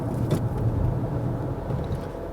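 Hyundai Santa Fe Sport seven-seater being driven, heard from inside as a steady low road and engine rumble with no talking.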